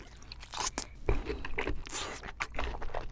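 Soft, wet chewing and biting on tender raw salmon dipped in tartar sauce, close to the mic, with a steady run of small crunches and squishes, no talking.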